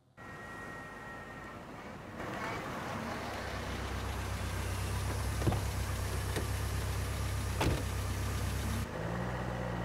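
Steady car engine hum from Tomb Raider: The Angel of Darkness, rising and holding as the vehicle drives, with a couple of faint clicks over the continuous low rumble.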